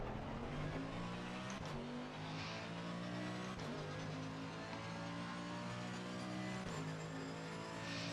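A Mercedes GT race car engine drones steadily in Assetto Corsa Competizione, with a sustained tonal whine that dips sharply at each gear change and recovers, heard from inside the car at a constant moderate level.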